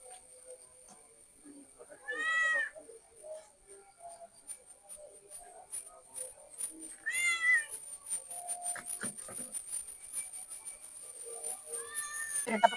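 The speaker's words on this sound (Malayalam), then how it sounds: "പൂച്ച ഇവിടെ ദേ" A house cat meows a few times beside a backyard fishing pond, with calls spaced several seconds apart, fairly close, amid light outdoor background noise and a steady high whine.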